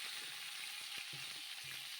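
Drumstick pieces and potato fry in a pan, a faint, steady sizzle with a few soft stirring knocks.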